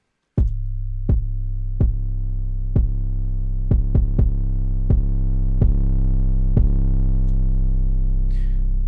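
Distorted 808 bass in FL Studio: a loud, continuous low growl punctuated by about a dozen sharp attacks at uneven intervals, heard alone after a brief silent start.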